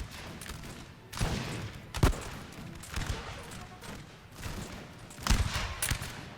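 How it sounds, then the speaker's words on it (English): Musket volleys in the Napoleonic battle game Napoleon: Total War crackle in scattered bursts at moderate distance, with several sharper volleys standing out among rolling gunfire. "The last unit will suffer a lot from the sustained gunfire coming down at them."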